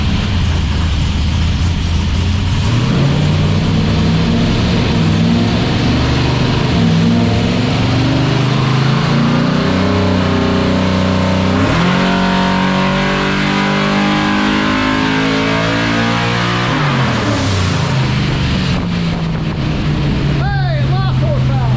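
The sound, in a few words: 400 CID small-block Chevy engine on E85 revving on hub dyno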